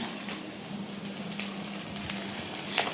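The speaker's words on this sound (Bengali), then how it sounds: "মাছ ভাজা হচ্ছে" Fish frying in a pan, a soft steady sizzle with faint spitting pops, fairly quiet and close, with no voices.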